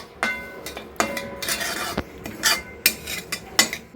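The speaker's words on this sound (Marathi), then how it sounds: "आता खसखस भाजून घेते" Poppy seeds are dry-roasted in a pan and stirred for sweet laddoos, making a series of sharp metallic scrapes and clinks of a spatula against the pan in an irregular rhythm, close and fairly loud, with no one speaking.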